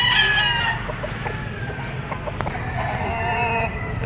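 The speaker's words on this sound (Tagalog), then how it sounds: "Gandang manok." Roosters crow and hens cluck at a poultry auction market in Padre Garcia, Batangas, several birds calling close by over a busy crowded background.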